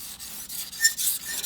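A knife blade rubbed lightly across a King whetstone to take off the burr, giving a few short, close, soft rasping strokes, with no voices.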